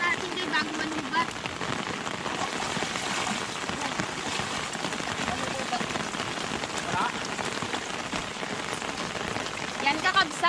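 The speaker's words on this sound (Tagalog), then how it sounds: "Lakas na ng ulan guys." Heavy rain pours down steadily during rural fishing in the provinces, a constant dense hiss of drops drumming on surfaces throughout, fairly close and even in loudness.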